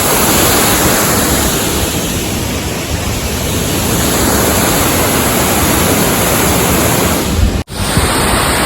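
Loud, steady rush of water at Kuntala Waterfall, a dense unbroken roar close by, with a brief dropout near the end.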